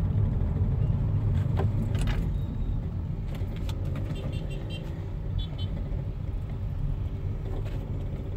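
An 8th-generation Honda Civic FD with a Mugen setup drives along steadily and conservatively, its engine and road noise forming a low continuous rumble, with a few light rattles inside the cabin.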